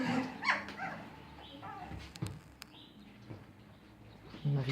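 Puppy barking and yipping in short, irregular bursts at close range, with faint whimpers and bird chirps in the background.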